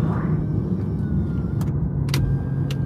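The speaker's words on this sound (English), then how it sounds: "This is more turbo noise than anything." BMW M850i turbocharged engine heard at a driving experience track in Atlanta: a steady low rumble and whir from a nearby car, with faint clicks and jingles on top and no talking.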